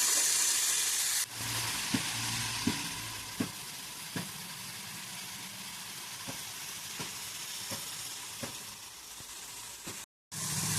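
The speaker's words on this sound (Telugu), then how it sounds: "ఇప్పుడు ఇవన్నీ బాగా కలుపుకొని ఫ్రై చేసుకోవాలి." Green chillies and other ingredients for cucumber chutney fry in a pan with a steady close sizzle, punctuated by regular light taps and scrapes of stirring, and a brief gap near the end.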